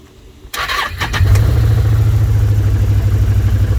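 A 2012 Can-Am Commander 1000 XT side-by-side engine cranks and catches after a brief click, then settles into a loud, steady low rumble close by with no talk.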